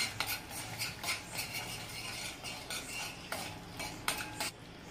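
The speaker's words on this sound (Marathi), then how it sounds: "अगदी थोडंसं चवीपुरतं मीठ टाकायचं आपल्याला आणि हलवून घ्यायचं" A spoon stirs momo chutney in a bowl after salt goes in, a series of close clinks and scrapes at an irregular rhythm, with no talking.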